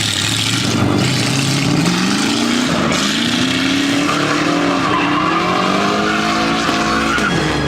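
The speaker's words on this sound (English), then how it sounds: "Is Dustin drifting?" Car drifting at a classic car show, tires squealing loudly and continuously over a steady engine drone for the whole stretch, the pitch of the screech sliding up and down as the car slides.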